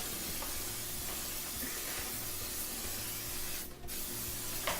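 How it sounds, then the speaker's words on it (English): A short aerosol spray of butter spray hisses briefly into a pan in a quiet kitchen, a single burst of pressurized spray. "So I'm going to spray my pan, just a little bit of butter spray"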